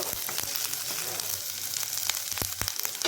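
Ginger and garlic paste frying lightly in butter in a pan, a soft steady sizzle with a few sharp stirring clicks, close and alone.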